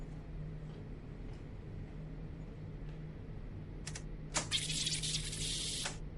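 A typewriter in a quiet room, a few faint taps at first, then a sharp metallic burst of rapid clattering about two seconds long that ends abruptly, with no voices.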